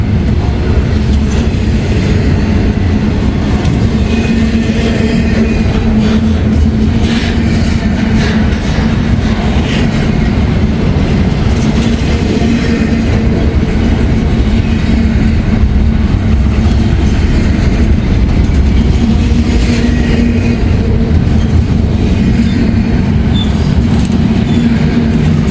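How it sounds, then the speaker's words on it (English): A long Norfolk Southern freight train rolls past close by, a loud, steady rumble of wheels and cars with rhythmic clatter and faint squeals running unbroken throughout. "This is a long one here. This is 28C. And without a shadow of a doubt, this is Norfolk Southern"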